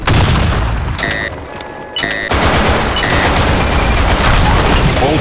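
Grenade blasts and heavy gunfire boom loudly and continuously in the BlackShot video game, with dense overlapping bursts and a brief lull partway through.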